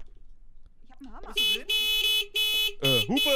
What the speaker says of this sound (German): Kann man auch mal hupen.